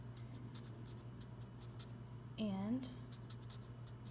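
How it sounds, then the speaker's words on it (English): Pen or marker writing words by hand, a soft continuous scratching of short strokes under a steady low hum, with a man's brief spoken word in the middle. "So I'll just write in Ephraim"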